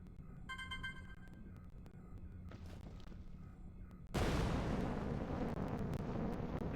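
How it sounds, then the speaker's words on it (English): A grenade goes off in a video game. The first seconds are a low rumble with a faint tonal chime, then a sudden loud blast swells into a dense, sustained roar. "Throw a grenade"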